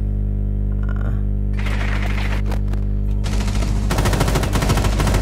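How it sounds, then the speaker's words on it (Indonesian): Automatic gunfire in Rainbow Six Siege striking a wall, first scattered shots, then sustained rapid bursts that grow denser and louder toward the end, close and sharp over a low steady hum. "Dia nembak tembok loh."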